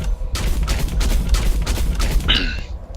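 A mech's sniper rifle firing in the shooter Hawken, a quick series of loud punchy shots in steady succession over a rumbling engine bed, ending with a brief electronic whine.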